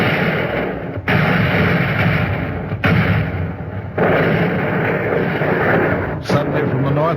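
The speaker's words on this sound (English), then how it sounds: "Then enemy coastal guns were in action." Enemy coastal guns firing in a wartime radio drama about the Salerno landings: several loud, deep thuds a second or so apart over a constant roar of battle noise.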